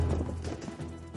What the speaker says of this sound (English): This is how the conquistadors would have ridden their horses.